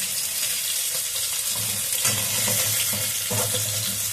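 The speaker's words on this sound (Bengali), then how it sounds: "মাছগুলো ভাজা হয়ে গেছে, দেখো এই যে মাছ ভাজা হয়ে গেছে, আমি তুলে নিচ্ছি।" Bhetki fish frying in hot oil gives a steady, close sizzle that runs the whole time, with a few soft clinks of a utensil in the pan.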